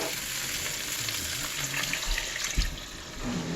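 A cup of water poured into a hot skillet while cooking chicken and dumplings, bursting into a close steady sizzle and hiss with a clatter near the end.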